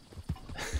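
Hooves clip-clop from a horse in a video game, a few soft thuds spread across a short moment, fairly quiet with no talk.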